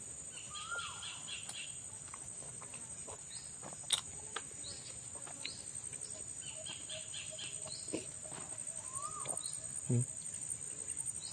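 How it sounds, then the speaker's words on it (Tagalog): Wild birds call with scattered chirps and short whistled notes in a forest, set against a steady bed of insect and cricket hum, with one sharper call standing out partway through. "Nandyan yung gabay na ibon ni Bayawak."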